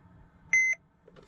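Single short electronic beep from the instrument cluster of a Mercedes Sprinter van, clear and brief against a quiet background.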